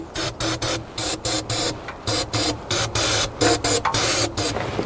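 Short repeated bursts of aerosol spray aimed into the air intake of an old Ford F150 pickup, hissing in rhythmic pulses about twice a second, close and moderately loud.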